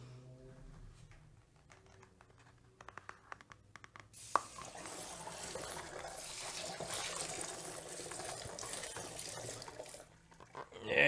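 Water is poured from a bucket to rinse brass casings after wet tumbling, a sustained close splashing rush lasting several seconds after a few clinks before it tapers off.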